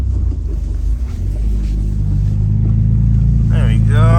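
A K24-swapped Acura RSX Type S pulls uphill in first gear with a loud, close, throaty engine rumble inside the cabin. Near the end the revs rise into a climbing whine.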